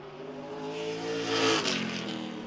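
A race car on a qualifying lap at a Jefferson season opener, the engine droning and rising to a loud peak as it passes, then fading off.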